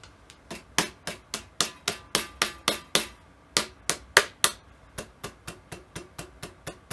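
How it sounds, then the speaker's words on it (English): Sharp knocks from smacking the neck of a cheap Strat-copy electric guitar with a slightly rattling truss rod, about twenty crisp hits in a fast irregular series with a short pause midway, close and clear with no talk. "Someone's gonna clip me just smacking the guitar neck for like 30 seconds."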